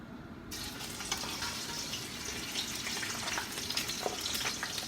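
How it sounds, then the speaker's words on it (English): Fish frying in hot oil in a pan while cooking rice with fish (masboosh semich), giving a steady, close, continuous sizzle with small crackles throughout and no talking. "We'll fry our fish"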